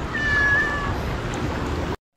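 A cat named Mingming gives one short, thin meow from up high on a fishing boat off Real and Infanta, Quezon, faint over steady engine and water noise.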